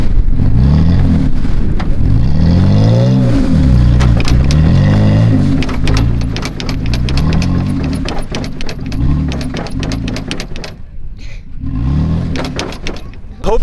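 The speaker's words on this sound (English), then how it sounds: "we're gonna spin the tires out and just get all 4 tires in a hole" A truck on beach sand spins its tires to dig itself in, the engine revving in repeated rising and falling surges, loud and near, with wind noise and occasional clunks.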